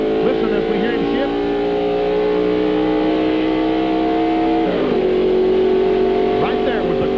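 Mark Martin's race car at the 1995 Daytona holds a steady engine drone, then the pitch dips and climbs again as it shifts gears, with a commentator talking over it.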